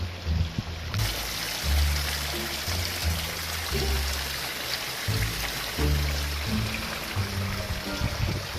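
River water rushes steadily into a pipe and fills the area around an underwater shelter, making a continuous splashing, trickling flow that stays fairly loud and even throughout with no voices.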